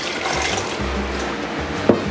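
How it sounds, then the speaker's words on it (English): Two cups of water poured into a pot with rice and tomato mixture, a steady broadband splash running throughout, close and moderately loud, with a couple of brief sharper knocks near the end. "Then I'm going to add 2 cups of water."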